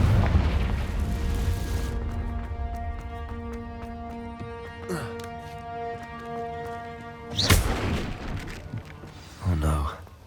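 A Confringo fire spell blast in the Hogwarts Legacy video game, on PS5, lands as a couple of sharp booming bursts over sustained tonal game music, with brief whooshes between them.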